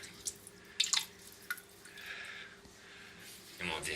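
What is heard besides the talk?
bidet water running after turning it on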